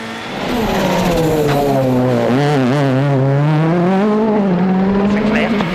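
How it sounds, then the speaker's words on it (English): A Ford works WRC rally car on a Monte Carlo stage in 2012, its engine loud and close with rising and falling revs held steady across the run, under commentary voices. "Petter Solberg, Chris Patterson, back in a works car and back in the Ford team after 11 years"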